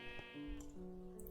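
A single sheep bleats in a Minecraft wool farm, a short wavering call heard clearly and alone.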